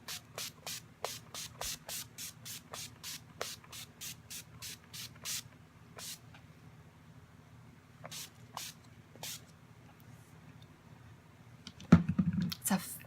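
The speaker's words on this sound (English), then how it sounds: "So let me spray my face" A rapid series of short, crisp spritzes from a fine face-mist spray bottle, then a few more spaced-out pumps, close and fairly quiet over a low background hum, with a brief rustle at the end.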